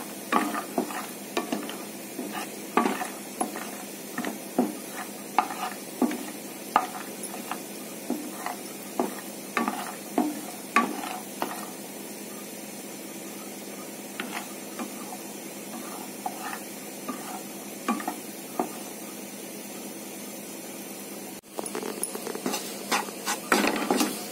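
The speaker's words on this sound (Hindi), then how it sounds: "बादाम को पहले रोस्ट कर रही हूँ।" Almonds roasting in hot ghee in a pan, a soft sizzle broken by repeated scraping and clicking stirs in an uneven rhythm, close, with a brief pause near the end and no talk.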